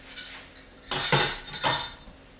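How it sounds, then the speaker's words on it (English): A metal lid is set onto a pot of pot roast with a few sharp clinks and clatters, close and fairly loud, then settles against the rim. "And then I'm gonna put the lid on."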